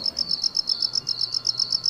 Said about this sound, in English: crickets, what are they?